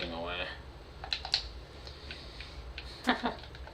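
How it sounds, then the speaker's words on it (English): A computer keyboard and mouse click during a jungle-biome game stream, making sparse, light taps and a few sharper clicks close to the mic at a low level, with a voice heard briefly at the start. "You guys can probably hear me clicking"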